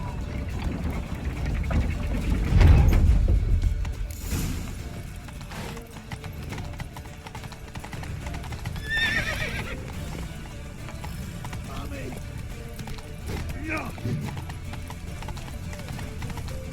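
Horse hooves clopping in The Witcher 3, a fantasy role-playing video game, a loud rush of galloping early on that settles into softer hoofbeats, with shouted voices and a whinny over busy game sounds.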